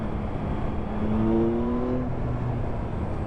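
A 2023 Yamaha XSR 900 motorcycle engine pulls steadily under load, its note rising slightly in pitch as it accelerates, with a constant rumble and wind noise and no talking.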